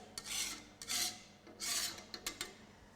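A metal scraper rasps across a dirty crumpet griddle in about five short, rough strokes, close and fairly quiet, with brief ticks between strokes.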